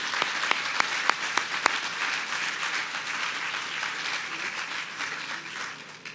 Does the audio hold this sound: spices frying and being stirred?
no